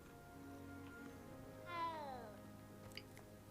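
A cat in the Hogwarts Legacy video game gives a single drawn-out meow midway, faint and alone over a steady game-ambience hum.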